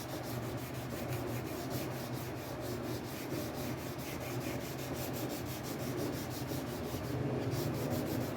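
Clear coat being sanded on a burnt orange Telecaster guitar body, a steady, rapid back-and-forth rubbing scrape that continues evenly and close up, with no talking.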